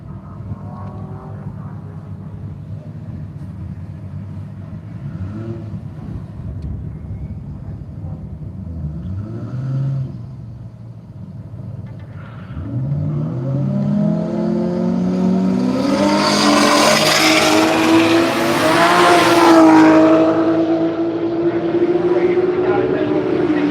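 Two drag racing cars at Willowbank Raceway in Australia, a silver one and a red one, launch down the strip. Engines idle and burble, then erupt into a loud rising roar that builds to a peak before fading slightly.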